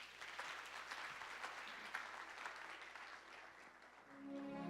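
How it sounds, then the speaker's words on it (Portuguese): A church congregation claps and applauds continuously, dense and fairly distant, fading slightly at the end as a low musical tone comes in. "Aplauda ele, irmãos."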